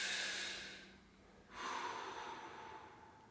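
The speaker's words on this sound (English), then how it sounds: "breathe in through the mouth" A person breathes in slowly through the mouth twice during a fascia exercise, each a soft, close, airy inhale with a short pause between them.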